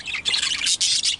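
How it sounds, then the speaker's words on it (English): Several birds in a breeding shed squawk and chirp in quick overlapping bursts, loud and close, with brief gaps between calls and no talking. "one of the most active birds here is Limey"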